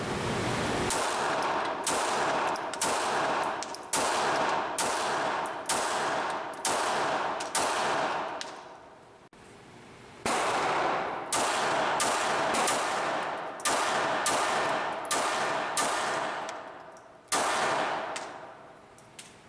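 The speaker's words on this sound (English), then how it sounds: "I took this gun to the gun range and shot this magazine with 100 rounds of ammunition" A pistol fitted with a high-capacity magazine fires round after round at an outdoor gun range, sharp loud shots in steady sequences with a few brief pauses between strings.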